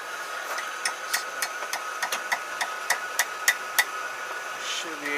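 Steel is hammered on the horn of an anvil while forging a bottle opener, a run of about a dozen sharp, ringing metallic strikes at an irregular pace over a constant background hum.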